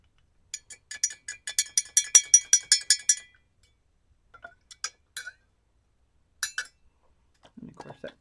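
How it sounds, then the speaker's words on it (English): Glass and metal clinks and taps ring out as a watercolor pipette is rinsed in water, starting with a rapid run of bright clinks, then sparse scattered taps and knocks with brief gaps of quiet. "Trying to clean out my pipette."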